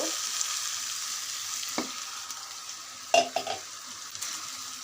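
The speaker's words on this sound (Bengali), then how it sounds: "মশলার সাথে ভালো করে কষিয়ে নেব সবজিটা একটু পর পরে নাড়া দিতে হবে" Vegetables with papaya, potato and spices sauté in a pan, a soft steady sizzle with a few sharp scrapes and clinks of the stirring spoon against the pan near the end.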